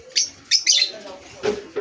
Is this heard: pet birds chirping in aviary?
yes